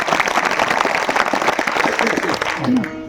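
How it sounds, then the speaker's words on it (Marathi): An audience claps together at a kirtan, a devotional singing gathering, in dense, steady applause that runs unbroken from start to end and may carry some voices under it. "वाजवा ना मग टाळ्या, वाजवा ना."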